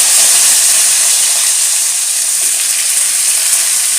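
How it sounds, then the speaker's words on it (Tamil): Eggplant pieces fry in hot oil with an even, close, continuous hiss and sizzle that stays steady from start to finish. "கத்திரிக்காய் இருக்கும் இல்லையா அதை போட்டு நல்லா எண்ணெயில் போட்டு"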